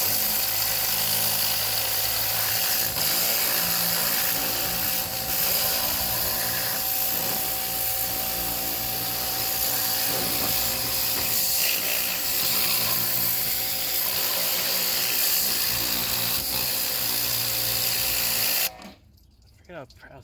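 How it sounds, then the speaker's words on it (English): Pressure washer spraying a 2003 Chevy Tahoe, a loud continuous motor drone with hissing spray that holds steady for most of the time before cutting off abruptly near the end. "I forget how satisfying a pressure washer is."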